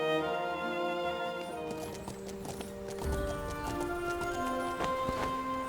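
Horses' hooves clatter as they pull a carriage in the Masquerada video game, a steady clip-clop rhythm beneath sustained musical tones, with the trotting growing busier and denser toward the end.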